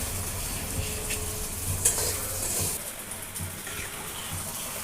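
Rice is tipped into fried chicken in a pot for chicken biryani and stirred, a close scraping, rustling stir over a continuous oily sizzle, with one brief clatter near the middle and no talk.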